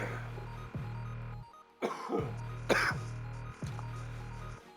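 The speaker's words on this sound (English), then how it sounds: "Let me clear my throat here" A man clears his throat in a few short, rough bursts at close range, over a steady low background hum, with no talk.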